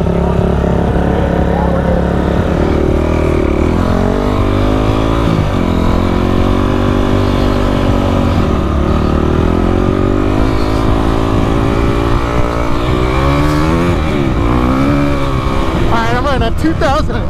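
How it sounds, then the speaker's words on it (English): A 2006 Honda CRF 250X dirt bike engine runs loudly and close, revving and shifting pitch in rising and falling sweeps throughout an endurance race, with voices talking over it. "Honda CRF 250X"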